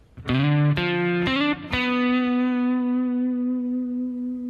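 A bass guitar plays a short D Dorian phrase: a few quick plucked notes with slides, landing on a long sustained tone that rings out and slowly fades. Close, clean and loud, with no speech.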